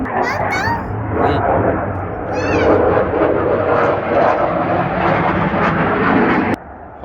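Fighter jets roar overhead in a loud, sustained whoosh lasting several seconds, with a person talking over it and a brief higher animal-like squeal early on, before the noise cuts off sharply.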